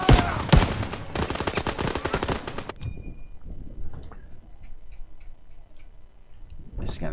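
Rapid machine gun fire in the World War II shooter Call of Duty WWII, a dense close burst of shots for about three seconds, then cutting off to quiet ambient battle noise with faint distant pops.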